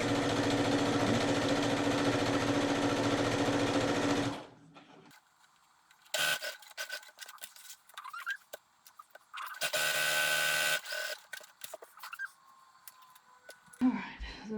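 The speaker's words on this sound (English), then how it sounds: "And I'm going to sew to right about there and stop." A sewing machine stitches an inside pocket into the lining of a leather jacket, starting with a loud steady whir of about four seconds, then a quieter pause and a second shorter run near the middle, with faint handling noises between.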